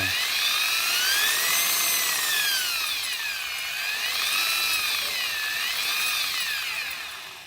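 An angle grinder running at reduced speed through a dimmer gives a loud, continuous motor whine whose pitch sweeps up and down several times, with no pauses.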